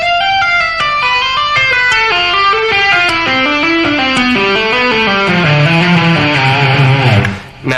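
Electric guitar playing a fast legato scale run of hammer-ons and pull-offs in a rock style, a steady stream of distorted notes climbing and falling, loud and close with no talking.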